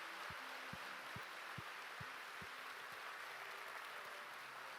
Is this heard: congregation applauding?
yes